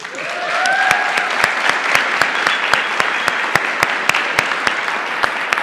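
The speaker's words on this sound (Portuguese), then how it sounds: "Uma salva de palmas para ele." An audience at a live talk applauds a 73-year-old man who went skydiving, sustained loud clapping with a steady run of sharp, evenly spaced claps and a brief whistle near the start.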